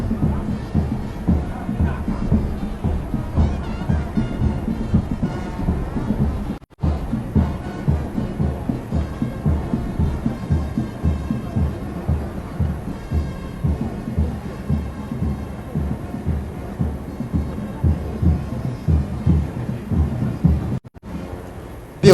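Nigerian security agencies march past at Eagle Square in Abuja during an independence anniversary parade, many boots stamping in a steady rhythmic thump, with a dull crowd murmur and band sound behind.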